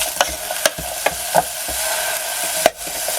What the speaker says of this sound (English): Something about onions that when you start to fry them, it just smells amazing.